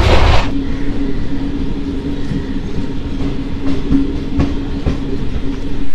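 A train rolls steadily along the tracks past Bishnupur station toward Bankura, with a loud continuous rumble and rhythmic clickety-clack of the wheels close by.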